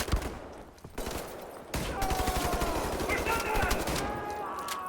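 Automatic gunfire rattles in the shooter Wolfenstein: The New Order, a dense, loud stream of rapid shots that grows heavier after a brief pause, with a voice shouting over it.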